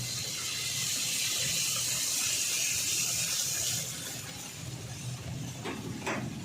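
Water pours steadily into a pan of aloo gobi masala gravy, a continuous loud hiss and gush that eases slightly toward the end, with no speech.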